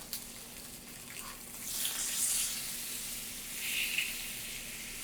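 A freshly flipped steak sizzles in a hot pan, a constant close hiss that swells louder twice as the meat settles, with no voices.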